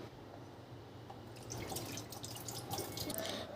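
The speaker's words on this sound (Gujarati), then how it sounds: "હવે એને આપણે પાણી કાઢી લેશું" Water trickles and drips close by, draining steadily from soaked sago pearls in a light, splashy patter that grows a little louder partway through.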